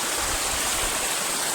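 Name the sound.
mountain stream water flowing down from the hill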